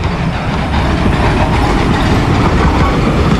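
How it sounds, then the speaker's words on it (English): A saddle tank steam locomotive hauling carriages rolls steadily past close by, with loud continuous rumble and rhythmic clickety-clack of wheels over rail joints, no voices over it. "Told you we'd get the steam train sooner or later."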